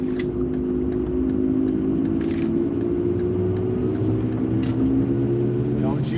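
A Ford Mustang GT350 engine runs with a steady, droning rumble that swells slightly, heard nearby under intermittent talking from people around it.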